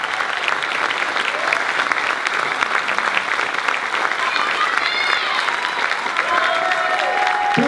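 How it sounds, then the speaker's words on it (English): A large audience at a high school athletics awards night bursts into sustained, dense applause with some cheering, steady and loud throughout as nominees walk out to their seats. "Let's give them a big round of applause."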